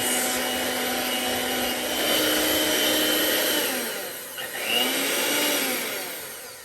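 An electric mixer blending flour into sweet potato pie filling, a loud continuous motor whir with a steady tone that dips briefly and then resumes.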